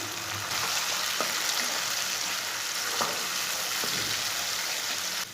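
Onion and garlic frying over medium heat for aloo palak, a steady dense sizzle holding throughout with a few soft stirring knocks, close and alone with no voices.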